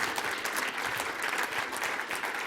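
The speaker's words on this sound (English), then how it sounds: "Round of applause for them." An audience applauds at an award ceremony, a dense, even wash of many hands clapping that holds steady at moderate distance for the whole stretch, with no speech over it.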